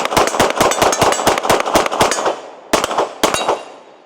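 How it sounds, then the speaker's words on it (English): Gunshots from a Glock 47 pistol, a rapid string of a dozen or more sharp, loud reports with ringing tails, then a short pause and a few more spaced shots before the echo fades. "So let's take a few shots with the 47."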